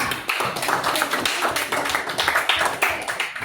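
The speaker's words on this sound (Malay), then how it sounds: "tepukan untuk Eva" Classroom applause for a student, a quick patter of hand claps from a group of pupils, fairly close with uneven rhythm and a bit of chatter mixed in.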